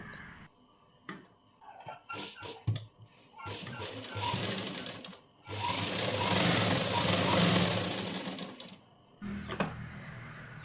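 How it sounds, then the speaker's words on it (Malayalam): A sewing machine stitches a blouse along a marked line in bursts, short runs at first and then a long steady whirring stretch, fairly close with no talk. "ഇതുപോലെ വരച്ച ആ ലൈനിലൂടെ തന്നെ സ്റ്റിച്ച് ചെയ്തെടുക്കുക എല്ലാ ഭാഗവും ഇതുപോലെ തന്നെ സ്റ്റിച്ച് ചെയ്തെടുക്കുക"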